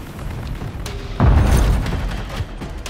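A flash grenade detonates in Call of Duty: Modern Warfare 3, with one sudden heavy boom about a second in that lingers as a rumbling roar before tapering off over gameplay ambience.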